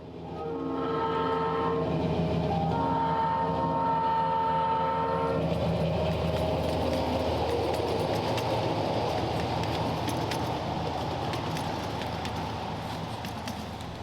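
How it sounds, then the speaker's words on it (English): Miniature live-steam railroad train with Santa Fe F7 locomotives crossing the Valley Y into Ott Tunnel, horn sounding in repeated blasts early on, then a steady, loud rolling rumble and clatter of wheels on track. "we get a bird's eye view of the train heading over the Valley Y into Ott Tunnel"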